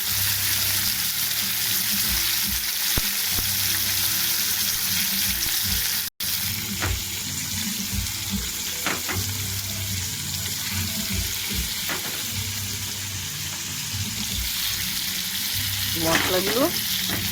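Hilsa fish fry in hot oil with a loud, steady crackling sizzle close by. A few scrapes and light knocks break in now and then.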